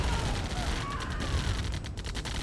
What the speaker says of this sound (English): Bringing the Apache into the mix, do some extra damage to the turret.